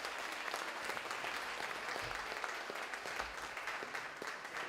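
Audience at a St Eugene's High School music show keeps applauding, a steady, fairly faint wash of many hands clapping from a distance with no voices on top.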